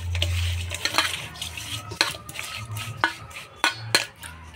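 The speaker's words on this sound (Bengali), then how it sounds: "হলুদ লবণ দিয়ে মাছটা ভালো করে মাখাই নেব" Fish being rubbed and mixed by hand with turmeric and salt in a Bengali home kitchen: soft wet squelching and stirring with occasional sharp clinks of a pot or utensil, close and fairly quiet, with no talking.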